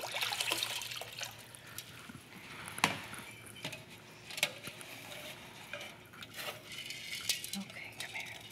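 Water poured off a container of cast metal during water casting for jewelry making, with splashing and clinking against dishes and metal in a quiet room, several brief louder splashes and rattles across the stretch.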